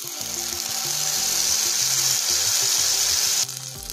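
Bean paste drops into hot mustard oil with nigella seeds and sizzles loudly and steadily, a close, bright frying hiss with faint stirring scrapes before it cuts off abruptly near the end.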